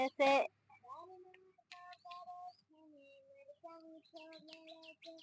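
Pigeons and other birds call in a string of short tonal notes and chirps, fairly faint, after a brief loud burst of noise at the start.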